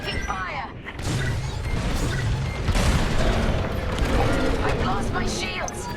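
Rapid laser-cannon fire, crashes and booming explosions during starfighter combat in Star Wars: Squadrons, loud and dense with mechanical clatter, while a voice speaks over the battle.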